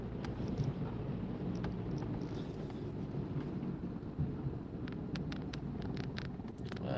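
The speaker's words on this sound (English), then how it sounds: "Hear a helicopter." A helicopter passes overhead during a drive through Kankakee, Illinois, a low steady rumble blending with road and wind noise inside the moving car, with a few brief ticks and clicks scattered across.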